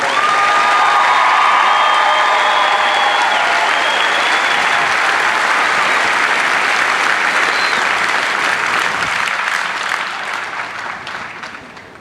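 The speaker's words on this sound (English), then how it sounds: "how about another round of applause for these exceptional airmen?" Large crowd at an Air Force basic training coin ceremony applauds graduating airmen, loud sustained clapping with some cheering and whistles that fades out near the end.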